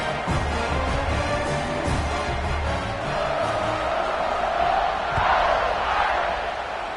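A football stadium crowd roars steadily before a kickoff, a loud sustained cheer with a commentator speaking over it.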